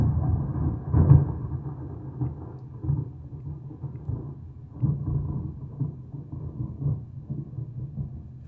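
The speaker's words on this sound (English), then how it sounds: "I might want to have this thunder happen again" Low rolling thunder plays back as a sound effect in Ableton, a deep continuous rumble that swells in uneven surges and then fades, with no voices.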